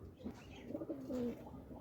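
Local desi golla pigeons give a brief, faint, soft coo in a quiet space, heard alone.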